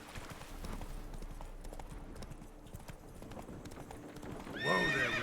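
Roach, a horse in a video game, clip-clops steadily at a walk over ground, and near the end gives a loud, close neigh.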